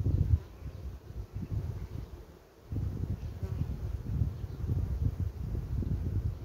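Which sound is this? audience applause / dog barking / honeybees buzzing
honeybees buzzing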